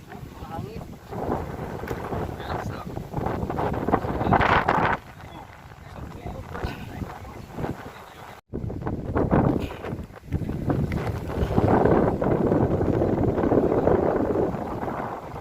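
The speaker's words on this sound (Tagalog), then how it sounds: "Mahangin." Strong wind buffets and rumbles across the microphone almost continuously while people talk over it, out on the causeway over the sea between Saudi Arabia and Bahrain.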